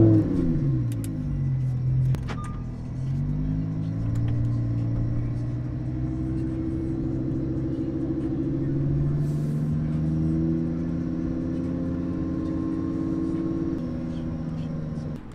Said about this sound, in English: You can hear all the bikes.